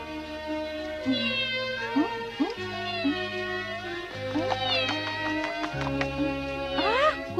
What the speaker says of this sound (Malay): Kucing lah. Kucing terbiar agaknya.